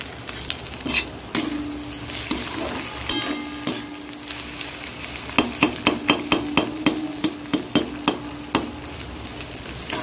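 Egg chowmein stir-fried in a sizzling pan, with a steady fry hiss under it. Near the end a fast run of sharp metallic clinks comes from a utensil striking the pan as the noodles are tossed.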